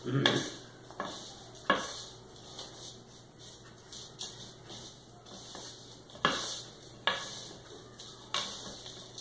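A spoon stirs organic protein powder into a protein bar mixture in a bowl, giving a quiet scraping swish with several sharp clinks against the side at irregular intervals.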